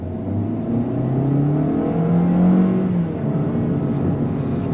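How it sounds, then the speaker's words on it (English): A 2025 Toyota Corolla FX compact sport sedan pulls away from a dead stop, its engine note climbing steadily, easing back briefly at a shift, then fading under a smooth whir from inside the car. "I want to go on throttle one more time from a dead stop"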